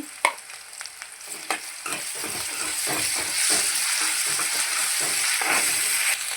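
Ginger and onion paste frying in hot oil for a potato khurma, a continuous bright sizzle that swells after the first seconds, broken by scraping stirs and a few clinks of the utensil.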